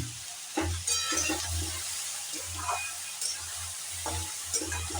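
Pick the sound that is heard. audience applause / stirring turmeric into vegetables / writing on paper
stirring turmeric into vegetables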